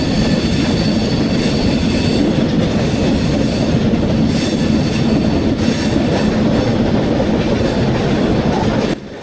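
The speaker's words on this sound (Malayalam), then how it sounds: "ഇതുവഴി ഇങ്ങനെ ട്രെയിൻ ഇങ്ങനെ ആ ഒരു സ്ലോയിൽ പോകുമ്പോൾ ആ ട്രാക്കിൽ നിന്ന് വരുന്ന സൗണ്ട് ഒരു നല്ല രസമുണ്ട്" Sabari Express, an LHB-coach train, rolling slowly over a curved track near Kollam station, a steady loud rumble of wheels on rails with rhythmic clickety-clack and occasional faint squeal, continuous throughout with no talk.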